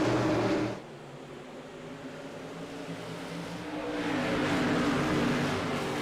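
Stock car and SK modified race cars at Thompson Speedway, a loud engine roar that drops suddenly, then builds back as the pack approaches and passes at a distance; no talk.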